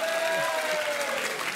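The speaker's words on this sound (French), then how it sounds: "On vous applaudit" A French television studio audience applauds steadily, a dense wash of clapping that fills the whole moment without pause.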